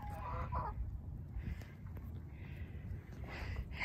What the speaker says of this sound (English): They are black and white hens.